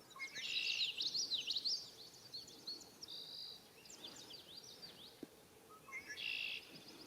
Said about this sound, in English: I think I hear a sparrow in the tall grass.